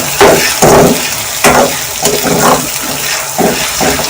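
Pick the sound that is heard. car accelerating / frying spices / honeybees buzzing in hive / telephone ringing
frying spices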